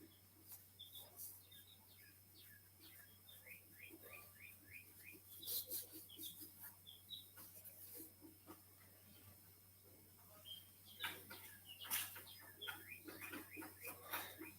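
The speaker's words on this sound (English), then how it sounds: "I don't know if you can hear my birds out there singing in the background." Faint birdsong outdoors, scattered chirps and short trilled phrases at a distance over a steady low hum and soft background noise.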